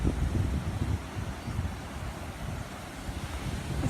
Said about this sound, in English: I love the sound. I love the ocean breeze.